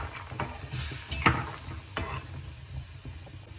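Curry broth simmers in a pot as bori lentil dumplings are dropped in, soft bubbling and gentle sizzling with a few close clinks and knocks against the pot.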